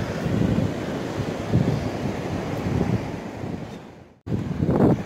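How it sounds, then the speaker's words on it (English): Surf breaking on a sunny beach in Greece, a steady broad wash of waves roughened by wind buffeting the microphone, with a brief dropout near the end before the roar resumes. "this is a very nice beach"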